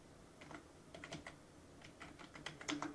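Quiet, close computer keyboard typing while entering a password on a lab computer, with irregular quick clusters of key taps and short pauses between them.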